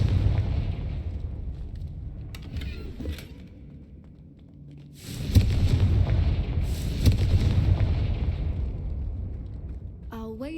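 A Confringo spell in the video game Hogwarts Legacy sets off a loud blast followed by a long rumbling burst, with quieter ambient rumble and a few other game effects before and after.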